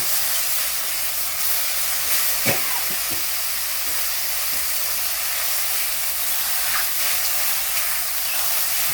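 Mushrooms and carrots sizzle in a pan during stir-frying, giving a steady, soft hiss with a couple of brief clinks from the pan.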